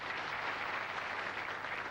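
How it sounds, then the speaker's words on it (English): Studio audience applause on a game show, a steady, full wash of clapping that holds evenly for a couple of seconds. "both of you share this round of applause"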